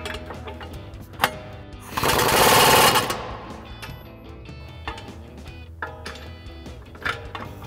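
An impact wrench with a 24 mm socket extension tightens coil-over bolts on a 1994-2004 Ford Mustang in one loud, rattling, hammering burst of about a second, set among quieter clanks of tools in a workshop.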